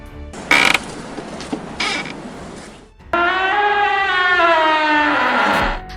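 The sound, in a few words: creaking door hinge sound effect from rusty hinge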